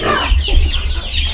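Several chickens on a farm cluck busily and continuously, close by, with a low rumbling hum underneath throughout.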